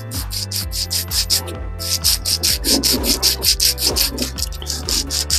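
Rhythmic back-and-forth rubbing strokes of sandpaper on wood for a custom HW95 air rifle build, close and regular, with a brief pause early on and no talking.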